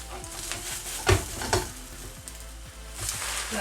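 Coconut flour pancakes sizzle softly in a pan while being flipped, with a low steady crackle broken by a few sharp spatula scrapes and taps.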